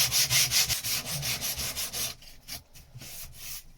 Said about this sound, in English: Be careful not to catch the back of this with the sander